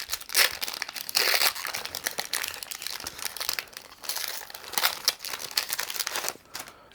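Plastic wrappers of Lord of the Rings Magic: The Gathering card packs being torn open, with steady close crinkling and crackling in uneven bursts over several seconds and no talking.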